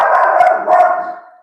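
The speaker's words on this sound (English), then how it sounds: "That's my dog." A dog gives one loud, close, drawn-out bark or howl-like yelp that tails off, alone without talk.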